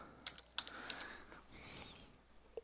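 Quiet computer keyboard typing while entering a server command for a Minecraft 1.11.1 Spigot server: a few sharp, irregular key clicks in short bursts, close and soft, with no voices.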